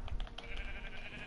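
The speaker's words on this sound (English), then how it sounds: "kill the sheep right here." A sheep in the Minecraft game gives a short, faint bleat, heard alone without talk.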